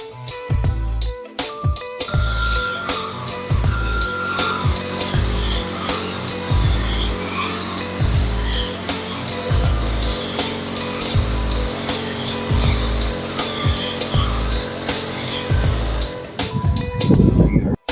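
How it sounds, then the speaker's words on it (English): A wooden table, puttied and ready for stain, sanded steadily with a power sander after a short start, a continuous rough buzzing whir that runs close and loud for about fourteen seconds before cutting off, with no talk. "After we get the table put together and all the holes puttied, I give it a really good sand"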